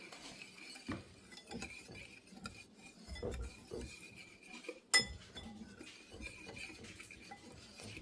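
A spoon stirs cayenne pepper into a seasoning mix in a bowl for air fryer pork chops, producing quiet clinks and scrapes with one sharper knock near the end.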